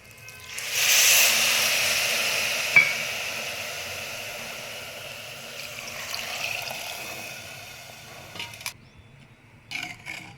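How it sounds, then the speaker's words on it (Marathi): Four cups of warm water poured into a pressure cooker holding dal and rice for khichdi: a continuous rushing pour that fades gradually, ending with a few light clinks of the vessel. "मी इथं चार वाटी पाणी कोमट करून घेतले आता ते पाणी ॲड करूया"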